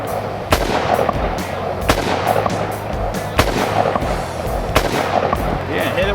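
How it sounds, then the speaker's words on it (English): Gunshots ring out at a polished sculpture target, a series of sharp reports spaced a second or so apart, heard close and loud over steady outdoor background noise. "So you're gonna shoot our sculpture"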